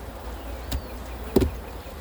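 Honey bees buzz around an opened backyard beehive, a faint steady drone close by, broken by two short knocks from the hive box.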